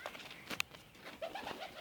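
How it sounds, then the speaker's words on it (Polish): Pigeons cooing softly at a distance, with a faint flutter as they fly off and a brief click, in a quiet outdoor setting. "Gołębia uciekają"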